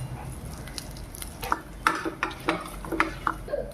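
Mustard seeds, dried chillies, curry leaves, garlic and cumin tempering in hot oil in a pan, a soft sizzle under a series of spoon scrapes and clinks against the pan.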